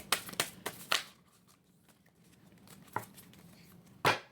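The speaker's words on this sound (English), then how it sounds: "Three shuffles." Oracle cards shuffled by hand during a spiritual card reading: a few quick riffling flicks close by, a quieter gap, then two more isolated snaps of the deck, no voices.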